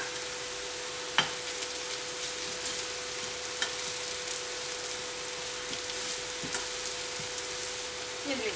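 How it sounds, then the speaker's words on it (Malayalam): Onions sautéing in a pan for a Kerala-style beef fry, giving a steady, close sizzle with a few faint stirring clicks and a constant low hum underneath. "സവാള നന്നായിട്ടൊന്ന് മുരിയുന്ന വരെ നമുക്കൊന്ന് വഴറ്റാം."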